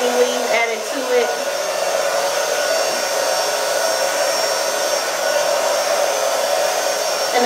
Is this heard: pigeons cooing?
no